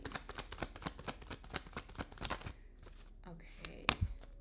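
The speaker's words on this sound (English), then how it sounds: "let me make sure I shuffle" Tarot cards shuffled during a live reading session make a quick run of close, crisp riffling and slapping bursts for a couple of seconds, then the shuffling stops and a voice follows.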